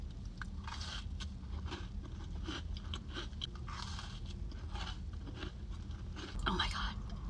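Close crunches and chewing from biting into a cinnamon roll cookie with cream cheese frosting and cinnamon sugar, crisp repeated bites with soft whispery voices in between.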